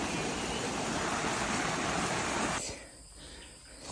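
Rushing river water at a jungle crossing on a mountain trek, a steady broadband wash that drops abruptly to a quieter trickle near the end.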